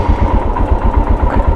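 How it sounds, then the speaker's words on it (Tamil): A Royal Enfield Himalayan motorcycle engine idles close by after an oil service, a loud, steady, rhythmic thumping pulse with no talking. "ஸோ வண்டி வந்து இப்போ நம்ம வந்து ஐடில் ஸ்டார்ட் பண்ணிக்கலாம்."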